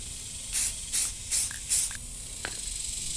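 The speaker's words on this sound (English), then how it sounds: "I'm gonna cover the face and spray it with some black" Four short, sharp bursts of black spray paint hiss from a spray can onto a handmade swimbait lure in a quick, even rhythm, followed by a faint rattle, close by and otherwise quiet.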